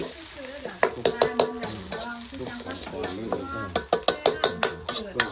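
Sizzling chicken stir-fry in a wok, with repeated metal scrapes and clanks of a spatula tossing the chicken, close and busy, with brief voices in the background.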